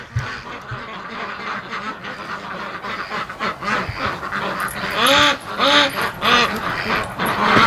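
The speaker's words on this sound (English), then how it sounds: "right now I'm watching some serious duck nasty action going on here" Free-range breeding ducks mating in a pen, with a close, loud burst of repeated harsh quacks that grows busier and more insistent toward the end.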